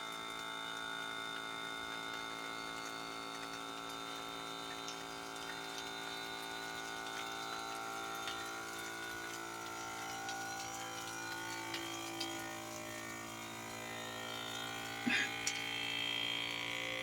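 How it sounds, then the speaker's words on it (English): A vacuum pump for dehydrating garlic leaves and stems hums continuously with a steady whine and faint watery gurgling, with a brief clunk near the end. "We'll start the vacuum."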